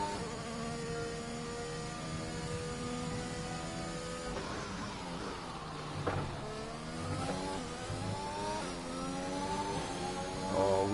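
A Williams Formula 1 car with a gearbox problem revs in a racing video game, a steady whining engine note with rising and falling pitch sweeps as it shifts and slides through corners, no talk.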